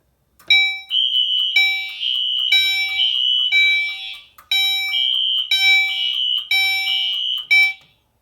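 A loud home fire alarm system under test blares in repeated electronic horn bursts, several long pulses with short gaps between, ringing harshly and close.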